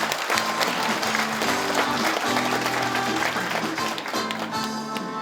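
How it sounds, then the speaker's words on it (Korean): An audience at an agricultural research forum in Gyeongbuk applauds the provincial governor's arrival, loud continuous clapping over background music with sustained tones. "힘찬 박수 부탁드립니다"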